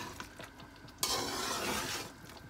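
Karahi masala ingredients for Lahori-style chicken karahi stirred and mixed in a pan, starting with faint scrapes, then a sudden louder burst of sizzling and scraping that continues steadily, with no talking.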